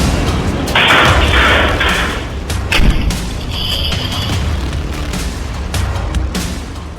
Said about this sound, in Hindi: रात करीब 12 बजे का समय, जोरदार धमाका